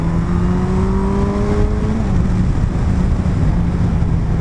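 Motorcycle engine accelerating hard on a curvy road near İğneada while overtaking a car, a steady loud drone with rising then falling engine tones over constant wind rush.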